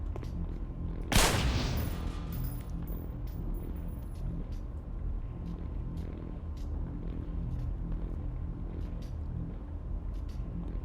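A flammable gas canister detonates in a video game, a single loud blast with a bright crack that decays into a rumbling, noisy background of continuous game sound.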